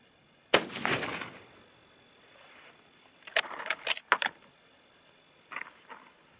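A .300 H&H Magnum rifle fires a 165 grain load: one sharp, loud crack with a short decay, followed by quieter metallic clinks and rattles.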